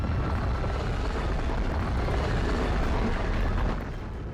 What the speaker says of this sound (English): That seems like a larger explosion than I'm used to.